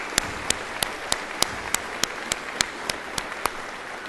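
Commencement ceremony audience applause, a broad wash of clapping with sharp rhythmic claps standing out roughly every third of a second, steady throughout.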